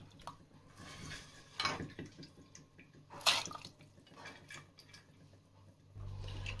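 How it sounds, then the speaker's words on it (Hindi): Soaked lentils tipped into water in a pressure cooker give soft splashes and drips, with two sharper pours standing out, faint and close against quiet kitchen background. "तो अब हम दालों को इसमें डाल रहे हैं।"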